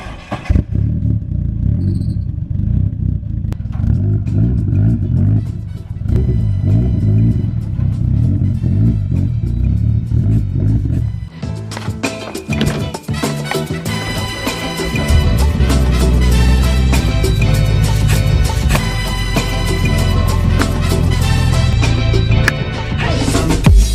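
A rotary-engined Nissan 240 rumbles nearby, starting quiet with some clatter, then growing loud and full as it rolls into a garage, its engine droning steadily up close with revs rising and falling.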